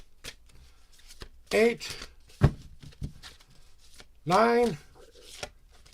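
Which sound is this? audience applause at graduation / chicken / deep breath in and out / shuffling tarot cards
shuffling tarot cards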